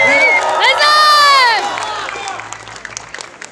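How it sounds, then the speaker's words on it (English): Renaissance festival crowd cheers and applauds before a fencing display, a loud burst of voices, whistles and claps that quickly tapers into murmuring. "So give them your best with a big round of applause."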